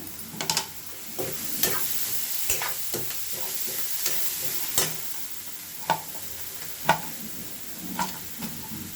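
Egg masala curry fries in a pan under a constant oily sizzle, broken by repeated sharp scrapes and clicks from a spoon stirring at an uneven rhythm, close and clear with no voices.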